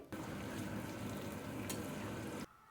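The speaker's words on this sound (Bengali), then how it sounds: "তেলের মধ্যে চিকেনটা দিয়ে দেওয়ার পরে মিডিয়াম টু হাই ফ্লেমে প্রায় 10 মিনিট মতো নাড়াচাড়া করে নিতে হবে।" Marinated chicken sizzles steadily in hot oil over medium-high flame while being stirred, a dense continuous frying hiss that cuts off abruptly near the end.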